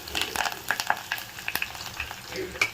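Chopped onions, curry leaves, garlic cloves and slit green chilies frying in a pan for bottle gourd dal, a close crackling sizzle full of quick sputters and pops.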